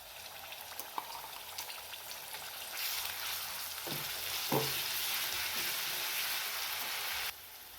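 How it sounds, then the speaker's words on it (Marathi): Ground masala paste is added to hot oil in a kadai while making a kofta curry gravy. It sizzles and fries steadily, growing louder after a few stirring knocks, then drops off abruptly near the end. "आता आपण यामध्ये मिक्सरला काढलेला हा मसाला घालूयात"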